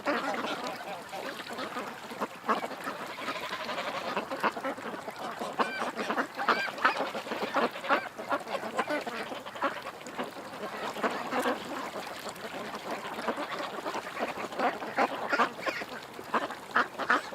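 A flock of ducks quacking and honking continuously at close range for the whole stretch, a busy overlapping chorus of calls with faint background noise.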